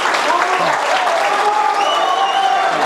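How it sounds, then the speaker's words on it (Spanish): Audience applause at a sustainability training session, a dense burst of clapping filling the room, with voices audible over it. "Le damos un aplauso"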